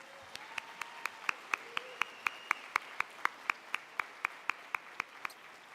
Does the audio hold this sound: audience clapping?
yes